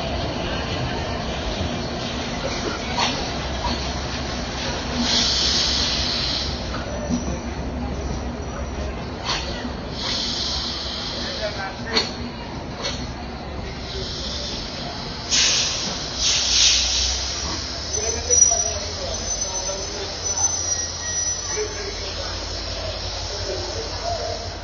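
A passenger train pulls into platform 5 at Kamalapur Railway Station in Dhaka as travellers return after Eid ul-Adha. Sharp hissing bursts and a low rumble sound over a steady station din, with crowd voices in the background.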